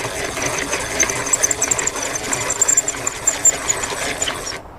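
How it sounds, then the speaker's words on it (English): Hand-cranked Stanley No. 77 dowel machine shaving square cherry stock into a dowel, a steady loud rasping whir with rhythmic knocks from the crank turning, ending abruptly. "Feed it into the machine and turn the crank"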